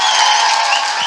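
A church congregation applauding for Jesus during a sermon, a steady, dense wash of many hands clapping close and loud throughout the short burst, with no voices over it.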